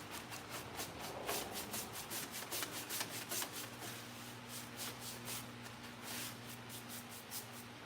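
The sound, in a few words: brush pouncing paint onto furniture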